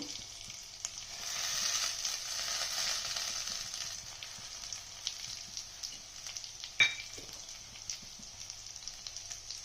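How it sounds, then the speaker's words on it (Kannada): Cinnamon, cloves, cardamom, mint and coriander leaves fry in oil over a medium flame for goat leg soup, giving a steady close sizzle with scattered crackles and a sharp stir or clink partway through. "ಕೊತ್ತಂಬರಿ ಸೊಪ್ಪು, ಇಷ್ಟನ್ನು ಇವಾಗ ಹುರ್ಕೊತೀನಿ. ಮೀಡಿಯಮ್ ಉರಿನಲ್ಲಿ ಹುರಿಬೇಕು."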